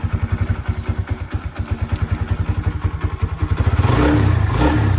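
A Honda Sonic 125 motorcycle engine starts cold and idles with a rapid, steady loping thump, then is revved into a louder continuous roar near the end, heard close up.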